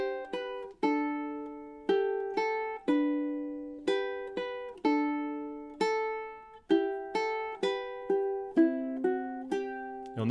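A ukulele picks out the Waltzing Matilda melody, measures 14 to 16, in clear single plucked notes with a bright ringing tone and a steady, unhurried rhythm, played close and alone.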